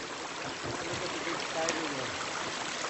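River water flows steadily in a continuous broadband wash near a swimming hole at Agua Salada, Poza Azul, in Morelos, holding an even level throughout.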